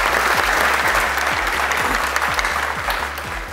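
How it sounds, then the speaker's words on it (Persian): Studio audience on a Persian-language Family Feud game show breaking into sustained applause, loud and dense, with a low rhythmic thumping running underneath the clapping. "تشویق کنید."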